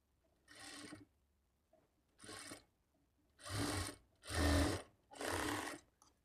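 A sewing machine stitching a folded blouse lining runs in five separate bursts of steady whirring, each lasting under a second, with short quiet gaps between them and the later runs louder and closer.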